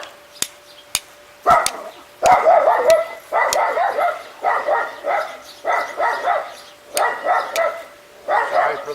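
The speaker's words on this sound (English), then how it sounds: "Sorry for the bark." A dog barks in repeated loud bursts close by, several barks in quick clusters after a few sharp clicks at the start.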